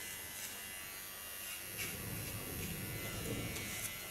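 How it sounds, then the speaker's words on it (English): An electric hair clipper buzzes steadily while shaping a line into an A-line bob at the back of a punk-style cut, a close, continuous whirring hum with slight changes as it moves through the hair, no talk. "Set out this line with the clipper."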